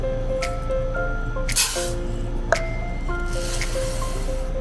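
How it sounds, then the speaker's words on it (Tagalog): Glutinous rice is rinsed in water with two soft swishing, splashing bursts, the second longer, beneath continuous background music. "ang una tayong gagawin is hugasan muna natin yung malagkit na bigas"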